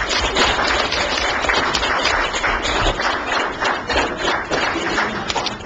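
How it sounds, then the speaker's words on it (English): A crowd applauds at a town council meeting honoring community leaders, producing dense, sustained clapping that stays fairly loud and even for the whole stretch. "Let's give all of these folks a big round of applause."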